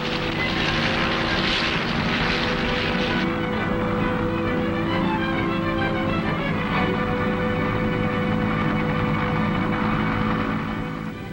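Military helicopter flying over a beach assault force in the Vietnam War, a continuous loud rotor and engine roar with steady throbbing, sustained throughout without pause.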